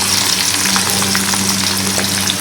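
Chopped garlic frying in a pan for a kochu flower curry, a dense, loud, continuous sizzle and crackle close by with no talking.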